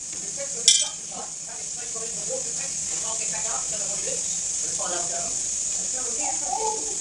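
Garlic, ginger and chana dal frying in oil in a pan for chutney, a steady sizzle throughout with a brief clink near the start and someone talking over it.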